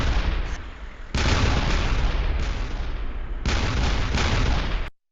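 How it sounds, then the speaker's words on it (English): A played-back recording of gunfire and explosions: heavy booming bursts and crackling shots in long, loud stretches, with a short quieter gap between volleys before the sound cuts off abruptly. "Gunshots and explosions are heard in the background."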